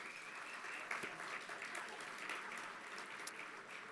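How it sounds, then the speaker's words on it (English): Guests at an annual business dinner and hall of fame gala applaud together in a large room, a continuous, moderately distant clatter of many hands lasting several seconds. "So round of applause for everybody here."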